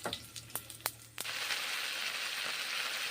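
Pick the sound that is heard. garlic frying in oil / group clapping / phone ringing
garlic frying in oil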